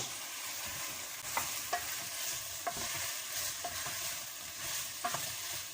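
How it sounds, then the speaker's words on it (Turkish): Tomato paste sautéed with potatoes in a pot sizzles softly and steadily under repeated scraping stirs of a spoon, with no talk. "Şimdi salçamızı da biraz kavurduk."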